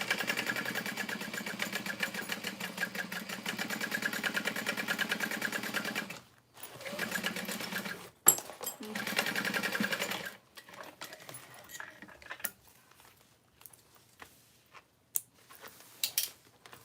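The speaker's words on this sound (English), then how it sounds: "I'm going to baste my lining down." A sewing machine bastes a lining down, first running in long, steady, rapid stitching bursts, then in shorter, choppy runs with pauses, close and moderately loud, with no talking.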